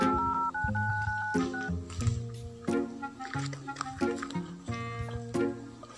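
Telephone keypad tones beep one after another as a number is dialed, each a short steady tone with brief gaps, fairly loud and close with no voices over them.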